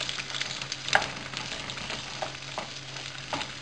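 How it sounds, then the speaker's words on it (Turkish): Potato and egg fry with a soft steady sizzle in a pan while being stirred, with a few scraping knocks from the utensil over the frying. "Bunu biraz karıştıracağım."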